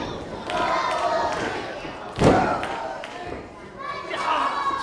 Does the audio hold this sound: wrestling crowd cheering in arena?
yes